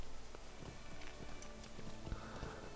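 Horse hooves clip-clop while riding in the video game Lord of the Rings Online, quiet irregular thuds over a faint game background, with no voices.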